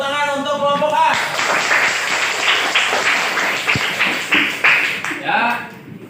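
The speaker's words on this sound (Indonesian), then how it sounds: "Tepuk tangan untuk kelompok A." Students in a classroom clap for the first presenting group, a dense burst of hand claps lasting several seconds, fairly close and moderately loud, with a voice heard briefly before and after.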